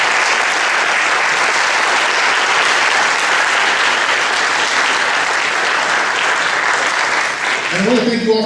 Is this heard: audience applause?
yes